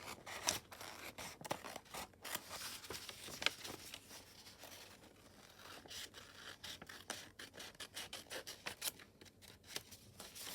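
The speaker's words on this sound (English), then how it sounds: "I'm just going to have to watch me cut out paper." Scissors cut out paper for a paper and fabric journal, a long run of quick, crisp snips and scraping blade strokes heard close up, faint and without talk.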